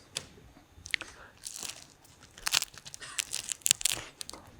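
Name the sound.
chewing crunchy microwaved ham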